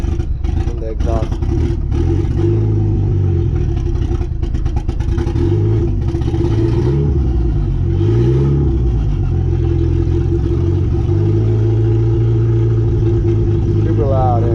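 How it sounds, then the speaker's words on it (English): A loud engine idles and revs up and down in long surges, running continuously and close by. "Super loud, and I kind of have to just leave my foot on the gas"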